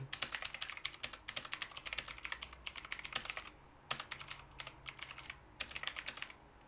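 Rapid keystrokes on a computer keyboard during touch-typing practice, clicking in quick bursts separated by short pauses, close and clear with no talking.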